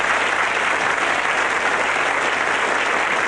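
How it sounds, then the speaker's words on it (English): Studio audience applauding a costumed contestant on a 1978 British television variety show, a steady, dense wash of clapping that holds at full strength for the whole stretch with no voices over it. "applause for Miss Fleet Street"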